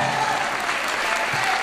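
Continuous crowd applause from the audience at a Hindi comic poetry show, a brief, dense and even burst with no voices heard over it.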